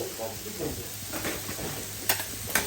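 Cooked rice frying for fried rice in a home kitchen in Milan, a soft hiss and low stirring scrape with a couple of sharper utensil knocks near the end, faint and partly under talking.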